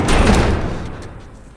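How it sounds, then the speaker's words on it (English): A door slams shut in The Last of Us Remastered, during a tense fight against a bloater, a heavy close thud followed by a dull fading rumble. "Barricade the door."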